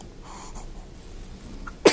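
A two-day-old baby girl gives one sharp little sneeze at the very end, close and loud after quiet soft sounds.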